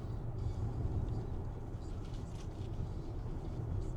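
Steady road rumble from a car driving along a highway on a cold February family trip near Niagara Falls, a continuous low drone of traffic with faint background voices.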